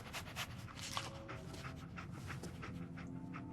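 Dogmeat, the dog companion in the video game Fallout 4, pants quickly and rhythmically up close, a steady run of short breathy puffs with faint whimpering mixed in.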